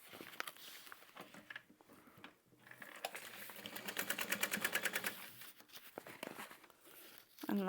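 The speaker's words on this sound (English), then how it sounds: "we're going to sew the pocket shut on the sides and leave the bottom open" Sewing machine stitching the sides of a handbag pocket shut, a close, busy rattling drone that rises and swells mid-clip, mixed with soft rustling of fabric and handling noises.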